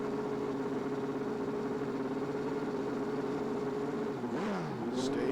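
Turbo-boosted drag racing motorcycles, including an Orient Express Suzuki, at staging in a 1987 IDBA Spring Nationals event: steady droning engines held at high revs, then a pitch sweep as one winds up, loud and continuous.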